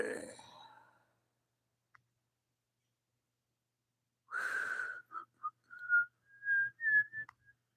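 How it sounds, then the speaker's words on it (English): A lone person whistles a few short, rising tones near the mic after a breathy sigh, the notes brief and separated, with silence between. "I'll quit the whistling."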